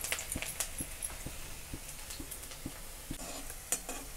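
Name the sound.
onion and curry leaves frying in oil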